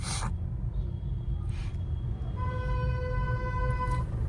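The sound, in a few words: car horn, long press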